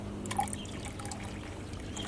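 Liquid is poured into an iron indigo dye vat, a steady close trickle and dribble of fluid running throughout with a few brighter drips, no talking.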